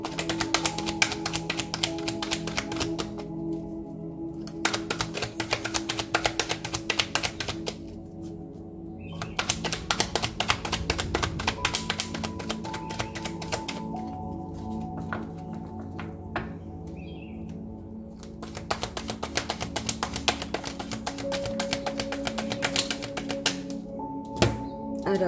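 Tarot cards drawn and laid down on a table: a run of soft, close taps and flicks arriving in bursts, set against a steady background drone.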